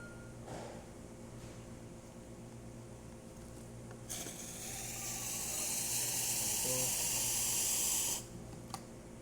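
A La Pavoni lever espresso machine, just given a full tune-up, pulls a test shot. A quiet, steady hiss swells for about four seconds over a low background hum, then cuts off.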